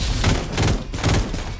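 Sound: gunfire in the video game Farlight 84

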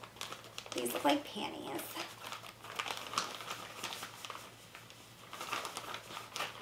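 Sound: opening packages in reusable plastic bags

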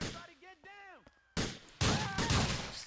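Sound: gunfire in video game GTA 4

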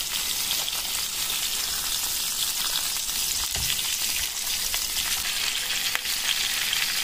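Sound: stuffed green peppers pan-frying over medium heat

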